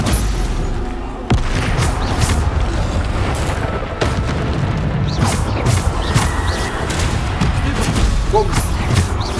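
The Bombarda explosion spell in the game Hogwarts Legacy fires as several heavy booms and crashes amid battle noise during a troll fight, with a person talking over the action.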